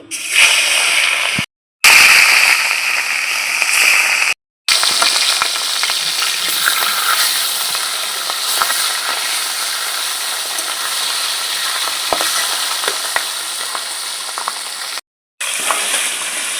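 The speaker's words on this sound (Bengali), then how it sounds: "বাদবাকি মাছগুলো ভেজে নিচ্ছি" The remaining katla fish pieces frying in oil, a loud close crackle and sizzle with occasional stirring, broken by a few short gaps of silence.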